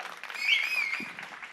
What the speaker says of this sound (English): can we have the claps, please